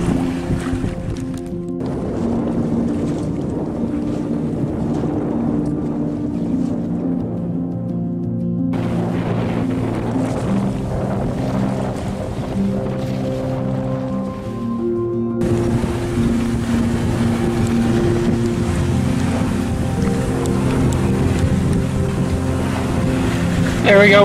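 A motorboat passes a sailboat near a reef in Egmont Bay, Grenada. Its engine gives a steady, layered drone over wind and water, and it grows louder and fuller in the last third.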